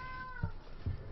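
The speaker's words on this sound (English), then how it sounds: "Sorry for the cat sounds." A house cat gives two short meows in quick succession, close to the microphone, over a faint hum of background game commentary audio.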